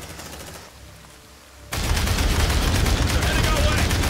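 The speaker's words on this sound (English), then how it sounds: "Deploying sentry gun." Sentry gun in the video game Aliens Dark Descent opening up with dense, continuous automatic fire that starts abruptly and keeps pounding loud and close.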